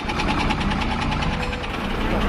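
A vehicle engine runs and pulls away during a wedding procession journey in Biratnagar, a steady rhythmic chugging throb close by with a light knocking pulse and no talk.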